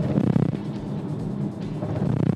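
BAIC X55 II SUV rolling over a speed bump, a steady low road and engine rumble inside the cabin with a soft thump swelling midway and again near the end.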